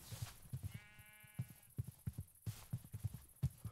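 Sheep bleat in Minecraft, one long harmonic bleat up front over a busy patter of clip-clop-like footsteps and animal shuffling, fairly close and moderately loud.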